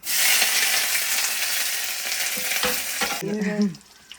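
Mustard seeds spluttering in hot oil for a tempering, a loud, dense crackling sizzle that holds steady for about three seconds, then drops sharply as a clink and a brief stir take over.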